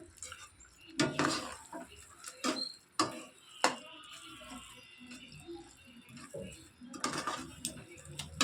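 A spoon stirs and scrapes tomato gojju in a metal pot in a home kitchen, giving sparse, irregular clinks and knocks against the pot separated by quiet pauses.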